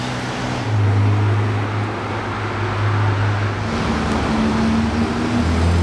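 A Porsche GT3 RS track car drives past on a Monaco street, its engine a loud, steady drone with a brief shift in pitch midway, set against street ambience.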